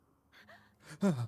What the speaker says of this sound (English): Le gasp.